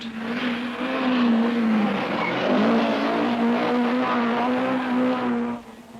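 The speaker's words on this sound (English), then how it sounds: "fastest here, Jimmy McRae in the Chevette" Jimmy McRae's Chevette rally car on a 1979 RAC Rally stage at the Great Orme, Llandudno, its engine droning loud and close with a wavering pitch as it holds revs, then cutting off abruptly near the end.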